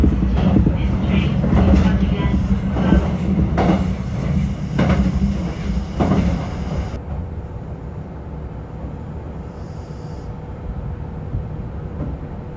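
Kintetsu rapid express train on the Yoshino Line heard from inside the car at speed, a steady rumbling roll with rhythmic clatter of wheels over rail joints that eases to a quieter hum partway through.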